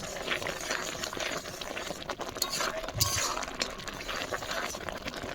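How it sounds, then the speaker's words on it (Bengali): Tamarind being mixed by hand into kachu pata tok (taro leaf sour dish), a continuous wet squelching and clinking of utensil against bowl, fairly close and without talk. "আমি কিন্তু এবার তেঁতুলটা দিয়ে খুব ভালো করে মিক্স করে নিচ্ছি।"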